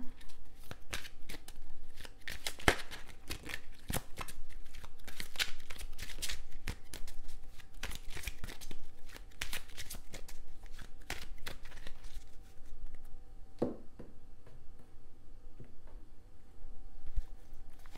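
Tarot cards being shuffled and laid over, a continuous soft papery riffling and patter with occasional sharper slaps, close and steady throughout.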